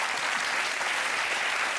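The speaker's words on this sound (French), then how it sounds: "je voudrais qu'on l'applaudisse." A studio audience bursts into dense, continuous applause, a loud steady wash of many hands clapping at once with no pauses.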